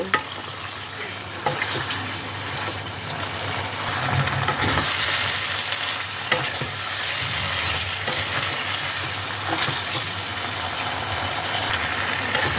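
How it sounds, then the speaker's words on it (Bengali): Paneer sautéed with spices in a pan, sizzling and frying steadily up close with occasional stirring scrapes, no talk. "মশলার সাথে ভালো করে মিশিয়ে নেব। নিয়ে আরও 2-3 মিনিটের জন্য এটাকে কষতে দেব।"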